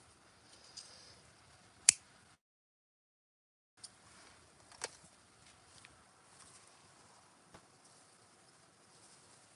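Scissors trimming fabric for a microwaveable bowl cozy give a few faint, sparse snips and clicks, one sharper cut standing out, in an otherwise quiet room with a brief silent gap.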